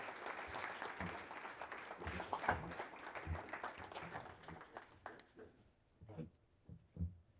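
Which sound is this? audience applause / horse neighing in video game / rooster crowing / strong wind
audience applause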